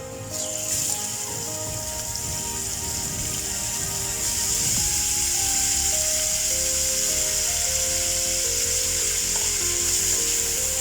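Prawns frying in butter with garlic in a pan, a steady loud sizzle that swells after a few seconds as the prawns go in, with faint scraping of a utensil underneath and no talking.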